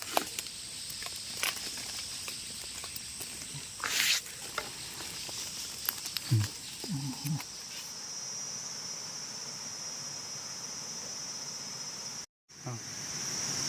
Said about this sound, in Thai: อันนี้ฝนตกครับ